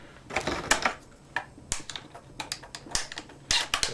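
12 gauge shells are pushed into the magazine of a new Charles Daly Semi-Auto Field Hunter VR-MC shotgun, giving a rapid, uneven run of close, crisp metallic clicks and snaps.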